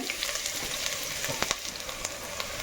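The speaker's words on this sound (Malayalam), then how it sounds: "വെളിച്ചെണ്ണ ഒഴിച്ചിട്ടുണ്ട് നമുക്ക് സബോളയും പച്ചമുളകും അങ്ങോട്ട് ഇട്ട് കൊടുക്കാം" Onions and green chillies sizzle in coconut oil for a home-style chicken curry, a steady crackling fry with small pops and stirring clicks, close and moderately loud, no voices.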